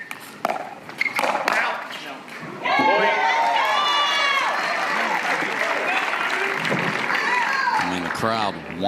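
A crowd at the CIBC Atlanta Slam pickleball match cheers, claps and shouts in a sustained burst with whistling, after scattered paddle pops and footsteps on court, with an announcer talking over it.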